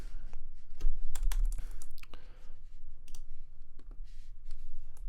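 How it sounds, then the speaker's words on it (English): Rapid clicks of typing on a computer keyboard in a music-mixing session, close and crisp, in irregular bursts with short pauses, heard alone without speech. "And I keep typing in the comments box when I want to zoom in."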